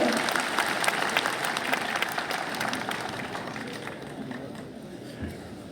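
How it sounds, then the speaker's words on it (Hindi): An audience at a public gathering applauds to welcome a speaker, sustained clapping with some cheering that gradually thins and fades toward the end as chatter remains. "तालियों के साथ स्वागत कर दिया जाए"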